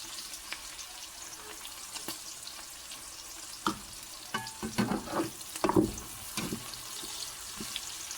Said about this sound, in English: Got my bacon frying.